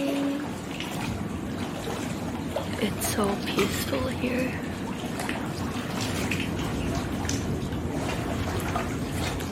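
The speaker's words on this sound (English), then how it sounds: "Just the sound of the waves is just so calming." Sea waves wash steadily along a shore in Singapore or Malaysia, a continuous broadband surf hiss that runs the whole time under a woman's soft, close speech.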